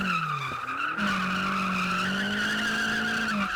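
Car drifting with tires squealing in a long, loud skid that bends in pitch, close by, in two-wheel drive mode, with engine roar underneath.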